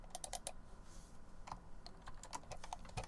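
Fingers tap quickly and irregularly on a computer keyboard. The crisp, close clicks come in small bursts over a faint steady background.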